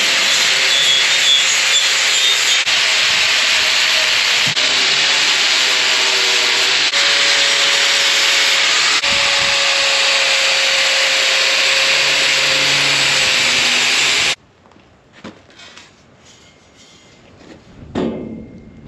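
An abrasive tool grinds rust and paint off steel before welding. The harsh, continuous scouring drones loud and close for about fourteen seconds, then cuts off abruptly, leaving faint scattered clatter.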